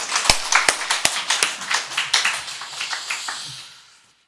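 A small group in a Sunday church service claps, sharp distinct hand claps at first, loosely in rhythm, then thinning and fading away within a few seconds.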